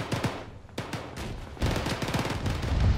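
Gunshots in the military shooter game Arma, with sharp cracks in quick succession near the start and a heavier burst of fire and rumble building toward the end.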